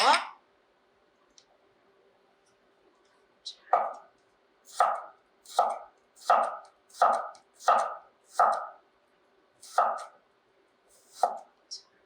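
A knife cuts through vegetables on a cutting board while preparing a Chinese cooking exam dish, with about ten crisp, evenly spaced chops after a single sharp knock at the start.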